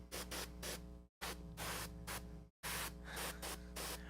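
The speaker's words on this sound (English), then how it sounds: "when we spray the gold over this, it's gonna have a really nice warm starting point to build up off of" Gold paint hissing from a spray can in steady bursts over a painted surface, three long sprays separated by brief pauses, loud and close with no talk.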